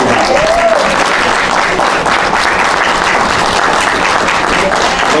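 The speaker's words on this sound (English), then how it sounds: "Another round of applause for Kevin Powell." A loud round of clapping and cheering fills a room at a Juneteenth community celebration in Paterson, New Jersey, sustained and dense for about five seconds with a faint voice or two rising inside it.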